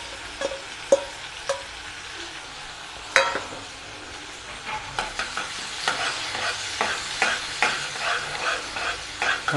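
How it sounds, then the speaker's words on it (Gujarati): Onions sautéing in an oiled pan after asafoetida for a green chickpea curry, with close spoon scrapes and stirring clatter over a steady sizzle, and a faint dog barking in the background. "આ હિંગ ઉમેરાઈ જાય પછી આપણે તેમાં ડુંગળી સાતળી લેવાની છે।"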